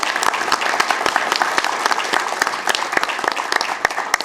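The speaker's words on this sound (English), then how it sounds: "Please give him a round of applause." Audience at a Sacramento City Council meeting applauds the Caregiver of the Year, a steady dense round of clapping from a sizable crowd, fairly close and continuous throughout.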